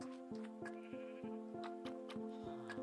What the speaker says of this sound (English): One batch of sheep noises to another batch of sheep noises.